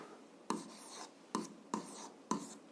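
An equation written by hand for a seventh-grade algebra exercise, four short separate taps and scratches of pen on paper in quiet, close and faint.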